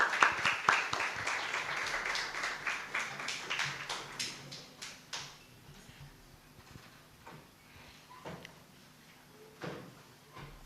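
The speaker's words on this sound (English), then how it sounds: "Let's clap for him." Applause from the audience greets a judge introduced at the final round of a national secondary schools moot court competition in Uganda. Dense clapping starts loud, gradually thins into scattered claps and fades out.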